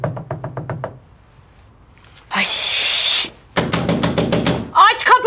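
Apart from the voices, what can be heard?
knocking on a door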